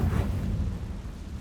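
A Confringo spell in Hogwarts Legacy lands with a deep, booming blast right at the start, then a low rumbling tail fades across the rest of the moment, with no voices.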